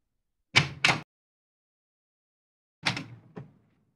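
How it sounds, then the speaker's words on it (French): Door opening as a sound effect in a children's story: two short bursts of creaking and knocking, then after a pause a longer creak that fades out, heard alone against silence. "il ouvre une porte et disparaît"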